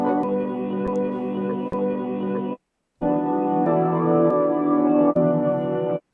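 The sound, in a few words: chopped, rearranged melody through Fruity Slicer in FL Studio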